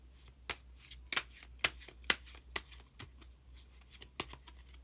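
Tarot cards being shuffled and drawn, with a rapid run of crisp, close riffling flicks and slaps in an irregular rhythm, heard on their own without talk.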